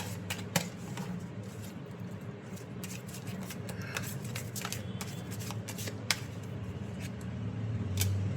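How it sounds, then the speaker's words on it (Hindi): Tarot cards are shuffled close up in repeated riffles and crisp snapping bursts, with a faint room hum underneath and no clear speech. "और मैं ये आपके लिए शफल कर रही हूँ।"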